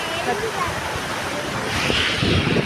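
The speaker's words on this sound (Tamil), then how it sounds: "ஆற்றுல அப்படியே தண்ணி ஓடுதுன்னு பார்த்துக்கிட்டு இருக்கோம்" Fast floodwater of the Vaigai river rushing past a bridge, a loud, continuous close roar that swells near the end, with a voice talking over it.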